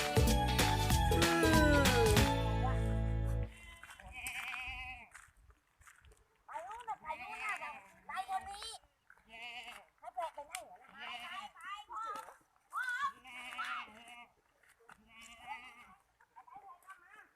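Goats on a goat farm bleat repeatedly, close by, in a string of separate calls with short pauses between them, after a brief burst of loud, harsh noise at the start; people talk now and then.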